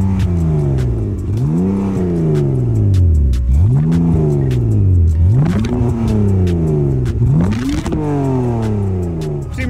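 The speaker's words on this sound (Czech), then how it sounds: "jelikož má 3 litr benzín, tak by to taky mělo mít pěkný zvuk, tak pojďme si to poslechnout" A 3-litre petrol car engine revs hard close by, climbing and dropping in about four repeated surges that fill the whole stretch, with no talking.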